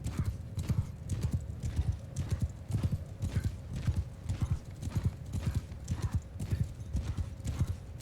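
A horse gallops with rapid rhythmic hoofbeats in the medieval video game Mount & Blade II: Bannerlord, steady clip-clop over eight seconds with occasional neighing and faint voices in the background.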